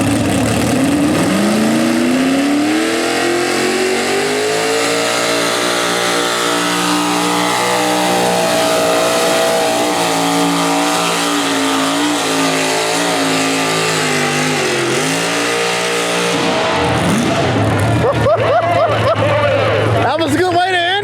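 A pulling tractor's engine roars loudly and continuously as it drags a weighted sled down the track at a county fair, the pitch climbing and holding under strain before dropping off near the end.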